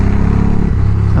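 A motorcycle with an aftermarket exhaust revs loudly and close up, its deep engine note rising and falling in one short burst.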